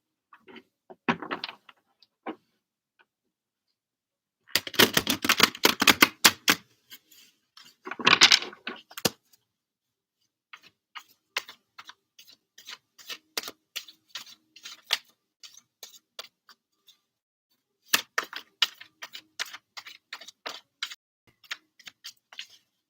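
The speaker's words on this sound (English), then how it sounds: "Let's start shuffling again." Brisk, papery shuffling of a card deck in several bursts separated by short pauses, close and moderately loud, with no voices.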